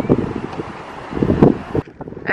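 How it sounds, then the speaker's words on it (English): Strong wind buffets the microphone in gusty, irregular bursts of low roaring noise at a windy outdoor spot in Puerto Rico, with no one speaking. "I don't even know if this is gonna come out because it's so windy"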